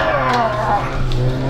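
Racing car in Gran Turismo Sport pushed hard through a corner, a steady engine drone with shifting harmonic whine and faint tyre scrub running throughout, loud and continuous.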